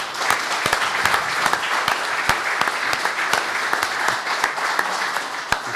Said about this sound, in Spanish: pedirles un aplauso para el senador Carlos Cantero